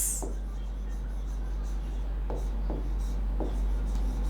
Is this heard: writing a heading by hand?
yes